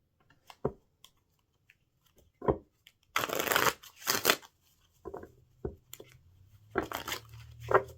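Tarot cards are shuffled in bursts: a few quick riffling and slapping rustles, then a dense run of card shuffling, with intermittent softer handling noises and brief breaks between.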